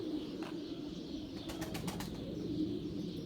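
Homing pigeons of a tumbler flock bred for flying are heard in a loft, with a brief flurry of wing flaps midway over a low murmur of cooing and ambient noise.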